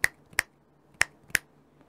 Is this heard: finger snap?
yes